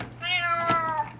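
A house cat gives a single drawn-out meow, close and clear, lasting about a second with a rising then falling tone.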